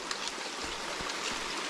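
A very small woodland creek running over rocks beside a trail, a soft steady trickle and burble heard close but faint, with no voices.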